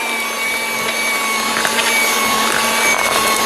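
An Aldi Ambiano cordless hand mixer with a fan-cooled motor runs on a nearly depleted battery, producing a steady, close, whirring motor hum with a faint high whine, continuous and alone without any talking.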